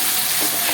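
Spice paste and frying onions sizzle and hiss steadily in a pan while being stirred, a close, continuous crackle with no speech.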